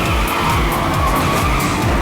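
Cars in a top-down Xbox indie racing game skid and squeal continuously with constant engine drone, a dense unbroken wash of tire noise throughout.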